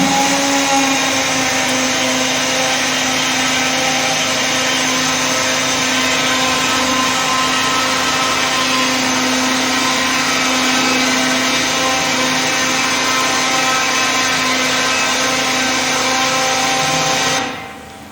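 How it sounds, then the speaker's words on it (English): An electric blender runs at a loud, steady whine for many seconds blending moi moi ingredients, then cuts off abruptly at the end. "So I'll be taking it back to the blender because I want everything to mix well together."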